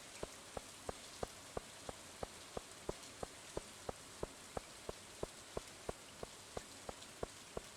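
Soft rain patters steadily on a rainy day in the Stardew Valley video game, paired with a faint, regular ticking that repeats about three times per second, all quiet and with no voices.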